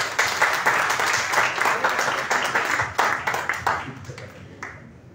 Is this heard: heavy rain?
no